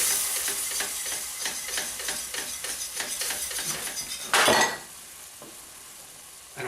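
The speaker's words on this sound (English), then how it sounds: "you just keep stirring and whisking for about 5 minutes or so" A milk and flour sauce is whisked in a pot, with quick rhythmic scraping strokes and a soft sizzle throughout, then a brief louder clatter of the utensil before the stirring quiets.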